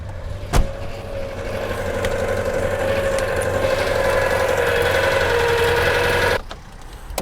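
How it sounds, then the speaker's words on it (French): A Citroën Ami 6 engine running with a loose, unscrewed sheet-metal plate rattling and rubbing against the engine fan, a loud steady buzzing drone for several seconds that cuts off abruptly, preceded by a sharp knock. "C'est une petite tôle qui s'est dévissée et qui frottait contre les hélices du moteur."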